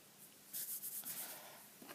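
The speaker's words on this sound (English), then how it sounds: "I'm going to write these down here" A pen scratches across paper in a brief run of quick writing strokes, close and quiet, with no talking.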